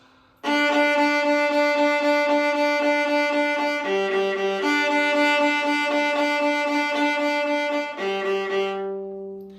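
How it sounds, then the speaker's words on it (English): Sustained bowed viola tones on open strings, long steady notes shifting between pitches, played close and loud with no talking. "practice just your open strings"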